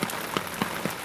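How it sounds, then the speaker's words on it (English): Hard rain falls steadily during a downpour, a dense broadband patter with scattered sharper drop hits, heard close by without any talking. "it's raining pretty hard now"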